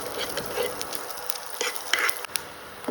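Mustard seeds, cumin, a pinch of hing and curry leaves sizzle in hot oil for a tempering, a crackling fry with sharp pops and spatters close by, no voices.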